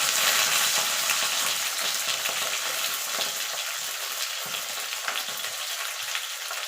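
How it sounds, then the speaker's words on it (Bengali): Flat beans dry-fry in a pan with a little oil and black cumin, producing a continuous crackling sizzle with faint scraping throughout and no talking. "এবার সিমগুলোকে এপিট এটুক করে শুকনো ভাজা লাল লাল করে ভাজা ভাজা করে নেব"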